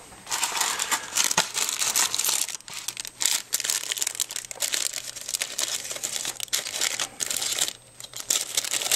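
Cellophane bag crinkling and crushing while a small box holding a 35mm film adapter kit is unpacked, continuous close rustling with sharp crackles throughout, no talk.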